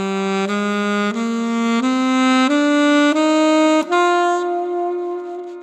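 A saxophone plays the D Dorian minor scale: about eight sustained notes step upward one after another, loud and close, with the last note held before it fades.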